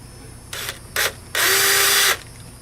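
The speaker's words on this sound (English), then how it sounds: "then we're gonna drill our hole" A power drill drilling a hole in metal for a Murray push mower stop cable whirs in two short bursts, then runs steadily for nearly a second, close and loud, its pitch steady.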